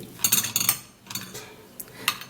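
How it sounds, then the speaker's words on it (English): A spoon stirring a beetroot and banana face mask mixture in a bowl, with bursts of bright clinking and scraping in quick clusters, close and fairly quiet. "So you're gonna mix it properly, mix it really well."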